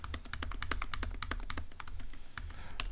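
Rapid, uneven keystrokes on a computer keyboard while coding a Raku program, a dense run of close clicks filling the stretch with a few spaced taps near the end; no talking.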